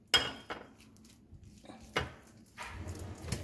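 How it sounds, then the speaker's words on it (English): A spoon clinks and scrapes against a bowl while mayonnaise is mixed, with a few distinct knocks and a short run of stirring, close and fairly quiet. "so I'm going to mix it very well"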